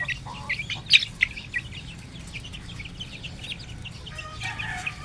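A flock of young backyard chickens, nearly a month old, clucks and chirps while being let out of their pen to roam, with a few sharper calls over a steady low murmur of activity.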